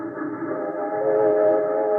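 Trains roll steadily past a railroad yard beside a wax sculptor's studio in a 1950s old-time radio mystery drama, a sustained whistle-like horn tone held over a continuous rumbling rail noise, fairly loud with no talk.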